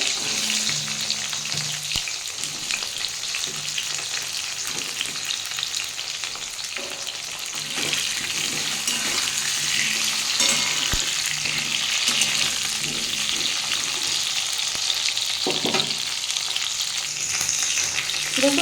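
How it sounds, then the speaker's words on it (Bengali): Pointed gourd (potol) pieces frying in hot oil after fish was fried in the same pan, giving a steady loud sizzle for the whole stretch with occasional stirring scrapes and no talking. "আমি এই তেলের মধ্যে এবার পটলগুলো ভেজে নেব"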